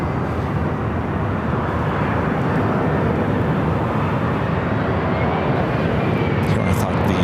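An airliner takes off from LAX's north side, a steady loud roar of jet engine noise that holds without letup, heard from a distance.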